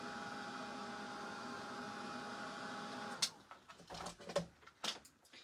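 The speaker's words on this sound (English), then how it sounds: "Just give this a quick dry with my dryer." A craft dryer blows a steady, even rush of air over a Mod Podge Christmas project for about three seconds, then cuts off and leaves scattered handling noises.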